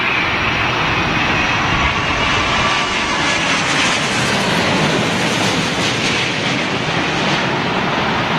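A British Airways Boeing 787 Dreamliner lands at London Heathrow in gusty wind, its engines giving a loud, continuous broadband roar that holds steady and close throughout.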